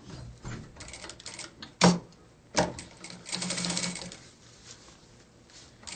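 A sewing machine stitches the zipper channel of a nylon pouch in short intermittent bursts, with a few sharp clacks between runs, fairly close and moderately loud.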